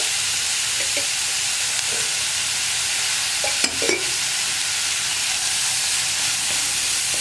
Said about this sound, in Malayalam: ഉപ്പ് ചേർത്ത് സവോള ഒന്ന് ട്രാൻസ്പെറൻ്റ് ആയി വരുന്നത് വരെ ഇളക്കി കൊടുക്കുക.